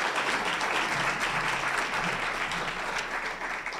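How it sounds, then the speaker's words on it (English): Audience at a downtown forum applauding panelists, a dense, continuous round of clapping that stays full and steady throughout without talk over it. "Just give me a quick round of applause for our panelists."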